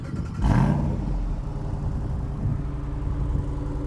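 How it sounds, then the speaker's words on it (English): A 2025 Jeep Wrangler Rubicon 392 with its Hemi V8 and performance exhaust rumbles steadily nearby, a deep continuous engine drone with a brief swell near the start and no talking. "And of course, the performance exhaust."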